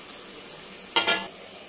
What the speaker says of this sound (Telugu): ఎగ్స్ అనేవి యాడ్ చేసేసుకుంటున్నాము